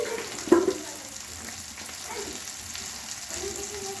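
Spices and turmeric fry in hot oil in a kadai for paneer, a faint, steady sizzle with a short clatter near the start and a low hiss continuing throughout.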